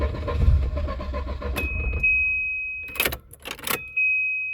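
A Volvo 240 with a no-start fault, its engine cranking with a low rumble that stops abruptly, followed by a thin steady electric whine from the running fuel pump and a few short clicks and rattles.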